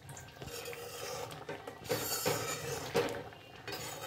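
Chana dal being stirred in a cooking pot, a soft run of scraping and light clinks from the spoon against the metal, quiet and close with no talk.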